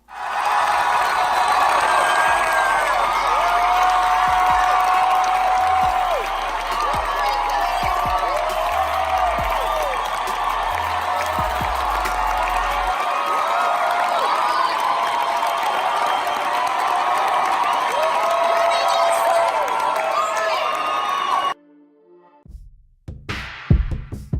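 A crowd applauds and cheers in support at an event, sustained clapping and whoops for about twenty seconds at close range before cutting abruptly to quieter, scattered sounds at the end.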